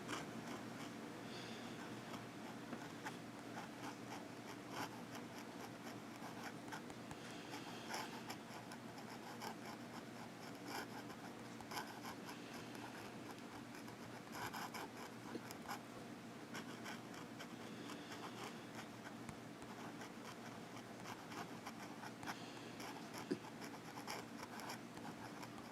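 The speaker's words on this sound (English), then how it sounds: "Now let's do some reverse writing if it does that." Pilot Explorer pen scratching across paper in continuous reverse strokes, a soft, steady scratchy texture close up with no voices.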